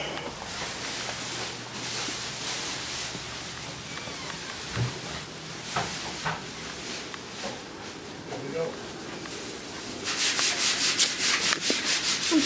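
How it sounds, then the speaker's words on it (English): Workers sanding a house before painting, a steady rasping, scraping rub continuing throughout with a louder, pulsing stretch near the end, while people talk nearby. "They're sanding."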